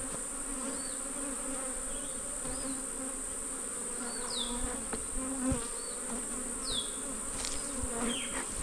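Honey bees buzz during a beehive inspection, forming a steady droning hum close up, with individual bees whining past now and then and faint outdoor background sounds.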